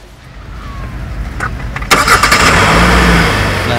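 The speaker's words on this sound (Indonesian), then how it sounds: "Nanti mesin mobil akan nyala sendiri." A 2021 Hyundai Santa Fe petrol engine starts by remote: a quiet lead-in, a sharp crank and catch, then a steady loud idle that holds close and even.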